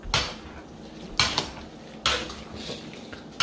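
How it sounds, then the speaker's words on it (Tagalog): Cooking lomi in a pot as an egg goes in: metal utensil clinks and taps against the pot, three or four distinct knocks spaced about a second apart, close and fairly quiet. "ilagay na natin ang itlog."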